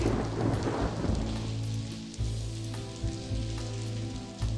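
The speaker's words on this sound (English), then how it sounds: "Oh, it's raining now." Video game rain pours down steadily in Blackwell Convergence, with low rumbling thunder rolling underneath and a few louder booms swelling through the continuous hiss.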